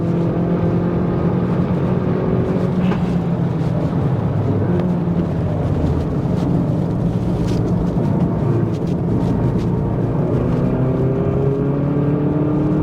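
Hyundai i30N Performance hatchback engine lapping the Queensland Raceway National Circuit, a loud continuous drone with harmonics that rise and fall as the throttle changes, heard close and steady throughout.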